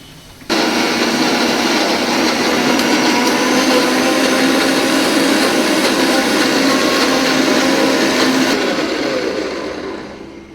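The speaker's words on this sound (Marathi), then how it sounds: "आता माझे आता मिक्सर लावते" A kitchen mixer grinder runs at full speed for about eight seconds, a loud, steady whirring roar that starts abruptly and then winds down to quiet, with no talk over it.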